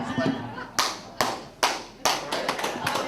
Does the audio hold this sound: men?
yes